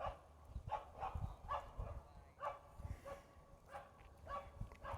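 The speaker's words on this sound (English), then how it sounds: "Dogs next door having a time of it." Dogs barking next door, a run of repeated yapping barks in irregular bursts, distant and faint, with some low speech-like sounds between them.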